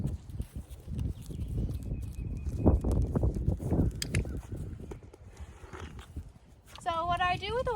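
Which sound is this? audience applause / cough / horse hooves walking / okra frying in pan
horse hooves walking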